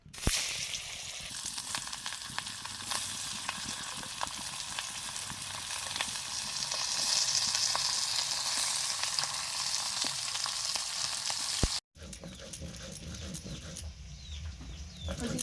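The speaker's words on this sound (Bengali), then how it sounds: "ওদিকে মাছ ভাজা চলছে," Small mourola fish sizzle steadily in hot oil in a kadai, a dense, continuous frying hiss that briefly cuts out near the end before resuming with some stirring clatter.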